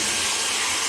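A Dyson cordless vacuum cleaner running in turbo mode gives a steady, loud, close whooshing roar with a high hiss, unbroken for under a second.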